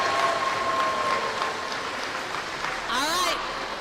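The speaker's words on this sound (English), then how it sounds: "Another round of applause." Steady crowd applause at a 2021 school robotics competition awards ceremony fills the room as a broad, continuous patter, with voices and brief vocal sounds mixed in near the end.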